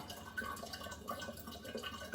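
Brewed tea trickles steadily through a strainer while being poured for a kombucha batch, a soft continuous splashing with small drips, fairly quiet and close.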